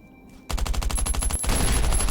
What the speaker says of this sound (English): Where are these shots coming from?